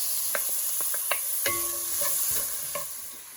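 Onion is being stirred into ginger frying in oil in a pan. A steady hiss runs beneath repeated sharp clicks and scrapes of the spatula against the pan, close up, with no talking.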